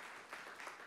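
Church congregation applauding after a sermon prompt, a faint wash of many hands clapping at a distance, steady and diffuse throughout the short moment with no voices on top.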